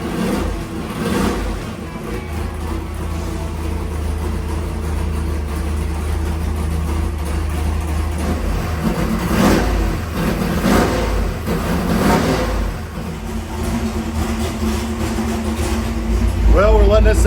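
A 434 cubic-inch small-block Chevy nitrous engine with a Dominator carburetor warms up on a dyno, running steadily loud with a rumbling idle and occasional swells of revving, then a sharper rev at the end.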